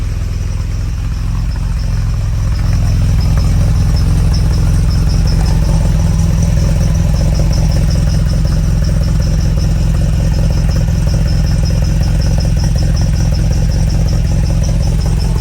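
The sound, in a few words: restored 1967 Volvo Amazon wagon engine running with sport exhaust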